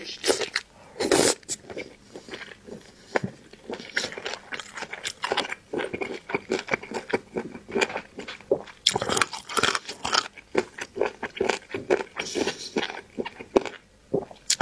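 Chicken feet being eaten up close, with rapid repeated bites, crunches and wet chewing at an uneven rhythm over about fifteen seconds, loud and intimate.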